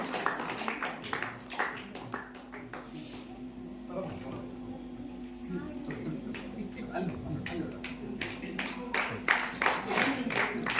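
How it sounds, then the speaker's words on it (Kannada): At a folk-culture anniversary function, an audience claps to welcome children aged nine to fourteen onto the stage, with a steady mains hum beneath and the applause swelling into a denser burst near the end. "ಚಪ್ಪಾಳೆ ಮೂಲಕ ಮಕ್ಕಳನ್ನ ವೇದಿಕೆ ಬರಮಾಡಿಕೊಳ್ಬೇಕಾಗಿ ವಿನಂತಿಸುತ್ತಾ ಇದ್ದೇನೆ"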